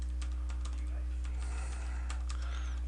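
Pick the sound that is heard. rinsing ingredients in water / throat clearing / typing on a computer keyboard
typing on a computer keyboard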